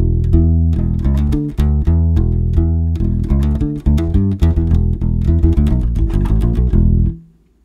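A bass and drum groove plays loud and punchy, with a syncopated bass line over tight drum hits, before stopping abruptly near the end.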